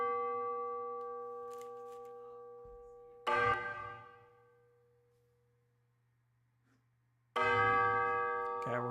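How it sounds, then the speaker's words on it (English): Church bells ring out in two loud, sustained peals with long ringing decay between strikes, the first fading slowly before a second bright strike near the end, heard alongside a low steady hum during a Carol of the Bells session. "We got bells."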